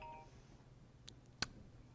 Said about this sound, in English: I guess I need to mute my phone.